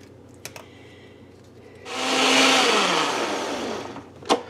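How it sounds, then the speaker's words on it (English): A kitchen blender purees cooked potato for dumplings, starting with a few small clicks and then switching on into a loud, steady whirring roar that runs about two seconds before winding down to a final clunk. "Let's get it in the blender there."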